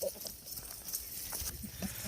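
Rajanpuri Gulabi goats move about on a farm, with a short bleat at the start and faint shuffling and hoof sounds through a quiet, noisy background.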